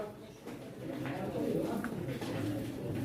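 Soft, low pigeon cooing repeats close by at a pigeon auction in Çorum, blending with a steady murmur of background activity.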